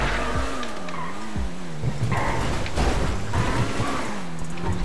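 A car in the video game GTA drives and skids, tires squealing in repeated bending whines over a loud engine roar, close and continuous with no talking.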